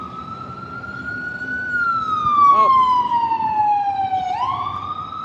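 A loud ambulance siren wails, sweeping steadily up and down close by, with a single brief exclamation from a voice partway through.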